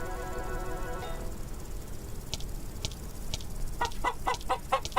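A chicken in the game Grand Dude Simulator clucks in a short burst of rhythmic calls near the end, after a murmur of background noise and faint tones.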